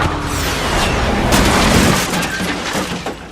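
A loud, sustained missile explosion roars with crashing debris and rumbling, dense and close, fading slightly toward the end.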